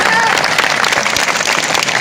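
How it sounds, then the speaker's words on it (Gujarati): A community gathering's crowd claps loudly and densely for two seconds, a close, continuous burst of applause. "જોરદાર તાળી પાડો કે અવાજ"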